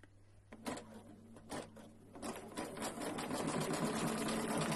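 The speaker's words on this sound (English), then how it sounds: "And we put a piece, the last piece, which is the finishing piece, on top. And we sew the last bit." An embroidery sewing machine stitches the last finishing piece of a fabric flower design, a steady rapid whirring hum that starts in bursts and then runs continuously, close and fairly loud.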